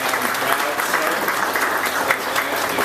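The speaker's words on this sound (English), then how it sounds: "please give a round of applause to Deb Abbott in the back" An audience at a Chicago kickoff event claps in steady, sustained applause filling the room, with cheering and voices mixed into the clapping throughout.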